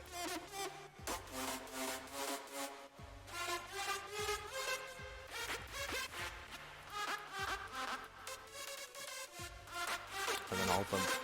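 Layered super saw synth stack built from Sylenth and Serum presets in a festival trap track, a bright, wide, sustained chord texture that plays continuously and loudly, with rhythmic stabs and shifting chords and no talking.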